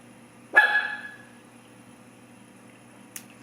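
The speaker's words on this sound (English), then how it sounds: "If you hear my dog barking" A single sharp dog bark rings out indoors at moderate distance, followed by quiet room tone and a faint short yip near the end.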